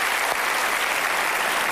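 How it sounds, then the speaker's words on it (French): A studio audience on a French television show about a mock baccalaureate exam breaks into dense, continuous applause, loud and even throughout the short stretch. "je vous applaudis et nous vous applaudissons pour cela"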